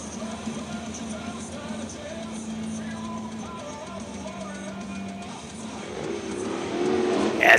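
Wingless sprint car engines drone at a distance in a steady mix behind a pace truck, swelling louder toward the end as the cars approach.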